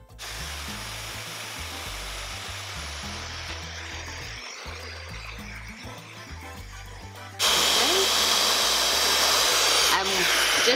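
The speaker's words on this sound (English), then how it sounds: "This is a powerful dryer." A Fentgo high-speed ionic hair dryer runs on its hottest setting, a steady broadband whoosh that jumps noticeably louder partway through and holds near and strong to the end.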